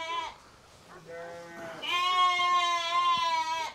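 Sheep and lambs on a farm bleat repeatedly, one long wavering call after shorter ones, close and loud with a steady tone, alone without talk.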